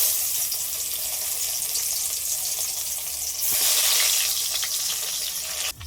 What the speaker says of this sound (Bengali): এবার বেগুনগুলো সব ভেজে নেব।